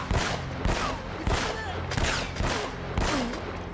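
Regular bursts of gunfire from headshots in Uncharted: Drake's Fortune, inside a tomb, cracking roughly every half second over a steady low game bed, with a voice speaking briefly between shots.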